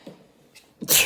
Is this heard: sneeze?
yes